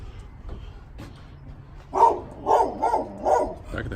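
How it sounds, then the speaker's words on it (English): Beside a ranch house in Raytown, Kansas City, a neighbor's dog gives four or five moderately distant barks in an uneven series over a low outdoor rumble. "There's the neighbor's dog."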